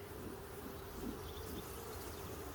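Honeybees hum steadily around an open hive during an inspection, a faint, continuous low drone with no voices, holding an even level throughout.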